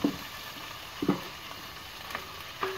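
Ginger and garlic frying in a pan over a wood-fired clay stove, a quiet steady sizzle with a few soft clinks of a stirring spoon spaced about a second apart, with no one speaking.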